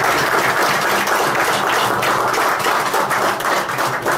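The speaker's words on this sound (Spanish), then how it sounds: "le damos un aplauso por esto y este reconocimiento" A seated audience at a Spanish-language ceremony gives dense, sustained applause in recognition of an honoree, with no voices heard over it.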